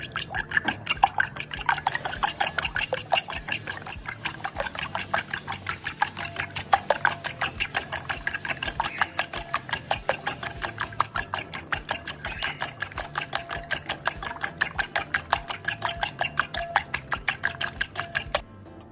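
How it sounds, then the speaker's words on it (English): An electric mixer runs steadily, blending flour into chocolate cake batter with a fast, even whirring rattle that carries on without a break, loud and close, with no talking. "now we have half of our flour mix mixing in to the chocolate mix"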